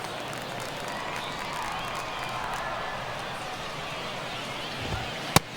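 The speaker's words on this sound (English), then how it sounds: "Crowd locked in right now" Baseball stadium crowd during a one-run game in the ninth inning, a broad steady roar of many voices filling the space, with a sharp bat crack near the end.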